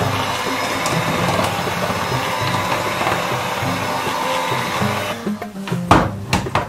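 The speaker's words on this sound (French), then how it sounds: "Une fois que j'ai ma farine de pois chiche et mes 2 œufs, je vais commencer déjà à mixer" An electric mixer whirring steadily through chickpea flour and two eggs for Algerian karantika batter, a loud continuous motor drone that cuts off near the end into a few clattering knocks.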